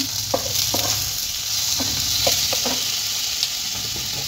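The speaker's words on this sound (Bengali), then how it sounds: "টমেটো এর সঙ্গে ভালোভাবে নেড়ে চেড়ে নেব।" Tomato fries in a hot pan for butter chicken while being stirred, making a loud, close crackling sizzle broken by repeated scraping stir strokes, with no talking.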